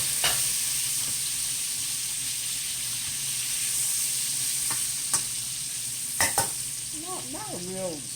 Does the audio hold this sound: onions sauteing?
yes